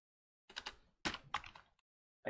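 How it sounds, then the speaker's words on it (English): Computer keyboard typing in short bursts, a few quick clusters of close keystrokes separated by brief silences, quiet and without talk. "that's why it's hard for me to type"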